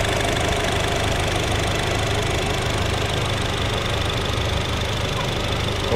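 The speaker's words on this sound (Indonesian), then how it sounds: "Mungkin kita dengarkan suara mesinnya" A 2018 Honda Jazz RS with a CVT idles steadily with its engine running, giving a constant, even hum with no gaps and no voices over it.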